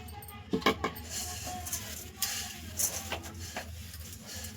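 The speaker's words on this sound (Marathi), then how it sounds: "आता आपण ही सुकट भाजून घेऊया" Dried sukat fish being dry-roasted in a pan for a spicy chutney, giving quiet scattered clinks and scrapes of a utensil against the pan with no talking.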